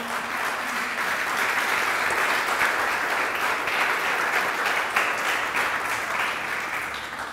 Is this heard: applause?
yes